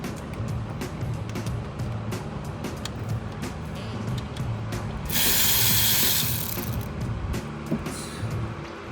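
Ratchet wrench with a short extension working on a BMW X7 during spark plug and coil replacement, giving steady repeated clicking throughout, with a louder burst of noise midway.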